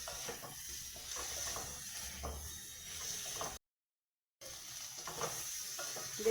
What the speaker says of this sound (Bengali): পটলগুলো দিয়ে আবারও কিছুক্ষণ কষিয়ে নিতে হবে